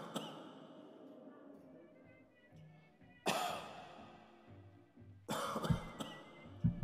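Game character coughing in a psychological thriller walking simulator, a few rough bursts spread through the scene, the loudest two coming in the second half over a quiet backdrop.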